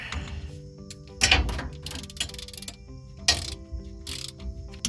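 Wrench work on the bolts of a Ford 8.8 axle differential cover on an OBS Ford F-150, giving a run of close metallic ratcheting clicks and clanks with a few louder bursts, no talk.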